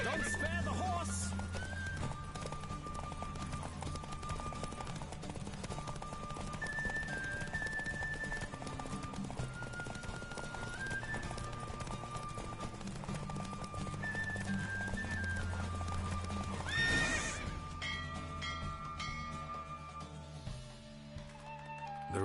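Hooves pound in a steady gallop during a Witcher video game horse race, continuing for most of the stretch beneath music and voices before the sound cuts off near the end.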